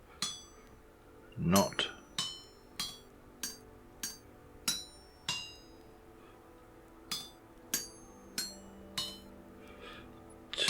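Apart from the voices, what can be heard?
hammering a copper chisel on an anvil, Vintage Story video game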